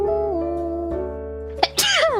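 A female Hololive VTuber sneezes once, a sudden close burst near the end that follows a sustained vocal tone.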